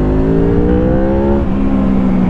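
A 2004 Honda VFR 800 motorcycle with its V4 VTEC engine revs up past 6500 rpm. The close, loud engine note climbs steadily in pitch, then steps to a harder, throatier tone as the VTEC engages.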